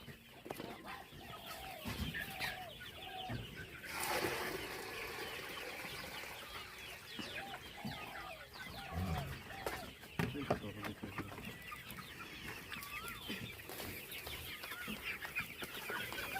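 Chickens and roosters on a small local poultry farm, with repeated clucks, calls and occasional wing flaps at close range, and people talking intermittently in the background.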